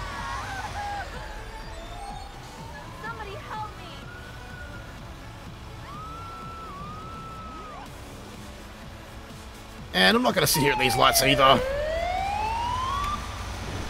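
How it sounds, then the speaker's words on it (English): A wailing emergency siren rises and falls in GTA 5 while someone talks over it, with traffic noise and a brief loud burst of game sound partway through. "We can at least turn the siren off now that we're on duty with LSPDFR"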